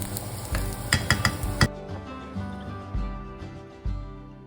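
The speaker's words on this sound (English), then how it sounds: "sautéing 1 cup of chopped onion on the same pan over medium-high heat" Chopped onion sautéing in a pan over medium-high heat, a close sizzle with a burst of quick spatula taps and scrapes early on, then softer stirring under faint background music, no talking.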